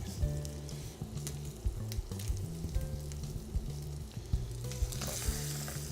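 Quail browning in hot oil in a pan for escabeche: a steady, close sizzle and crackle with intermittent stirring taps throughout.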